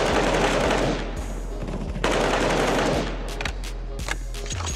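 Automatic gunfire from a gun in the video game CS:GO rattles out in two long, rapid bursts followed by scattered shots, loud and close.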